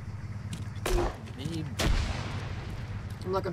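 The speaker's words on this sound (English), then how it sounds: "That's mortar." Two heavy mortar blasts in Arma 3, deep booming impacts about a second apart with rumbling tails, over a steady low background hum and brief voices.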